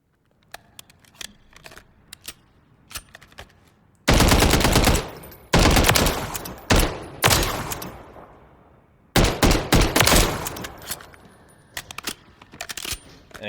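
Bren 2 BR rifle chambered in 7.62x51mm fires in Call of Duty: Modern Warfare III. Loud automatic bursts come in two main strings, preceded by quieter mechanical clicks and handling noises.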